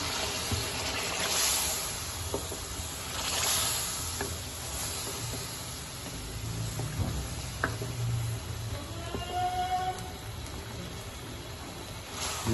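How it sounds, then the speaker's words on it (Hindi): A cup of water is poured into sizzling chicken korma cooking in ghee, giving a steady hiss and bubbling splash from the pot, with soft stirring and clinking near the end. "इस मौके के ऊपर इसमें हमने 1 कप पानी का डाल दिया।"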